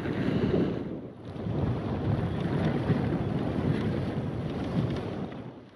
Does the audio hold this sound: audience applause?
no